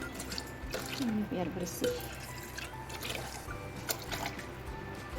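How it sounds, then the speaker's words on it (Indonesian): About 300 ml of water poured into a kitchen pot for a herbal cough remedy made from spices, a brief splashing pour under a woman's close speech. "Terus mau saya tambahkan air 300 ml lagi"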